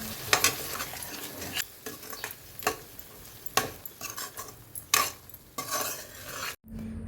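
Onion-tomato masala with turmeric, chilli powder, salt and coriander powder frying in a kadai, soft oily sizzling broken by repeated scraping stirs and spoon clinks against the metal pan, close up with no talking.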